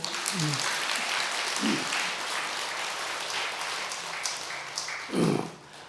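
An audience claps at a Buddhist dharma talk at Beomeosa temple in Korea. The dense, steady applause continues for several seconds, with a few brief voices rising near the end.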